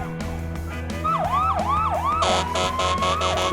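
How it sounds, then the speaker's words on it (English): Several emergency vehicle sirens wail together in a busy city street, rising and falling sweeps overlapping with a steady high tone, loud and close over background traffic, growing louder partway through. "There are a bunch of emergency vehicles with their lights flashing and sirens blaring"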